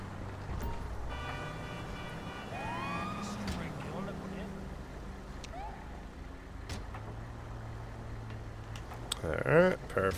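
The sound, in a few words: ambulance siren in the video game GTA 5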